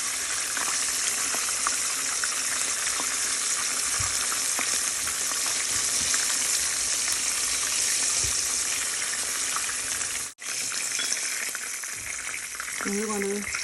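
Breaded pork chops frying in a pan sizzle loudly and evenly up close, with a short dropout near the end and faint clatter afterward.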